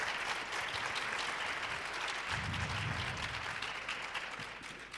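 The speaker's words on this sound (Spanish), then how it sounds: "Aplauden, no aplauden." An audience applauds steadily, a dense wash of many hands clapping at moderate distance, holding for several seconds and tapering slightly at the end.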